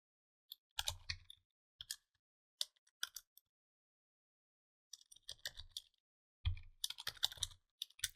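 Keys on a computer keyboard clatter in short bursts of quick typing, separated by brief pauses, close and fairly crisp with no voices.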